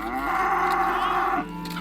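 A cow lows loudly and close by in a Himba village in Namibia, one long sustained moo that swells and then drops off near the end, with no other voices.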